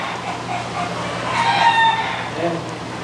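A rooster crows once in the middle, fairly close and clear, against a steady background hum.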